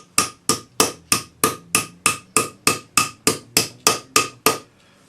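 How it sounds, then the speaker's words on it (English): A small round forming hammer strikes into a fold of metal on a folded cuff, thirteen crisp, evenly spaced metallic blows at a steady quick rhythm, close and loud, each ringing briefly before the next, with no talking. "I'm using a little round forming hammer to hammer into the fold."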